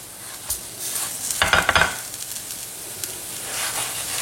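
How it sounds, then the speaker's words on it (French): Galettes frying in a hot pan after being flipped, a steady close sizzle with a brief burst of scraping and clatter from turning them midway, then settling back to an even hiss. "je vais retourner mes galettes délicatement pour qu'elles puissent cuire de l'autre côté"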